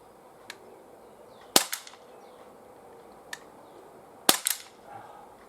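PPQ M2 pellet pistol firing at a can about 15 metres away outdoors, a few sharp isolated cracks spaced seconds apart, each followed by a faint quick rattle, over quiet background.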